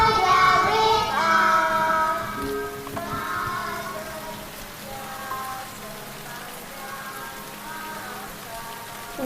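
Rain falling steadily on surfaces, a constant hiss under a harmonic melody that fades out partway through.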